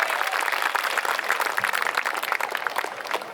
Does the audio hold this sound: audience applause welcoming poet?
yes